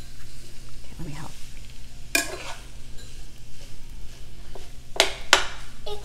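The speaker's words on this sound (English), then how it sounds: "so mix your ground beef around" Ground beef being stirred in a frying pan, soft scraping strokes over a steady low sizzle, with a few sharper clanks of utensil against the pan.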